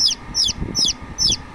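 Newly hatched chicks on a farm, hatching in a warm incubator with more still in the eggs, peep shrilly four times in an even rhythm, close and loud, with faint rustling between calls.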